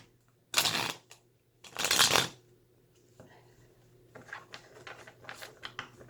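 A tarot deck is shuffled by hand in a few brisk riffling bursts, then softer card slides and taps follow close to the microphone, with no talking.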